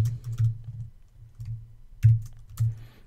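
Irregular clusters of keystrokes come from a computer keyboard being typed on nearby, in short bursts separated by brief pauses, with no voices.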